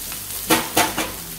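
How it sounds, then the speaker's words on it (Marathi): Potato pieces sautéed with onions in a pan, a soft sizzle punctuated by three quick spatula scrapes in close succession, near and clear, with no speech. "हे आता व्यवस्थित परतून घ्यायचंय कांद्यामध्ये।"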